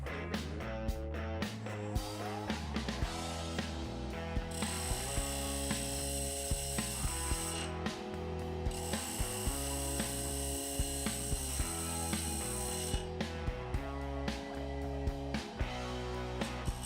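A lathe trims the top of a turned cherry and walnut vessel, a steady mechanical hum with a rapid ratcheting chatter and repeated sharp ticks as the tool cuts, with no talking.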